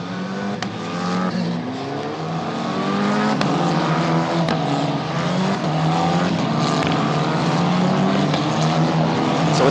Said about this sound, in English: The field's starting to bunch up and Brando into the grass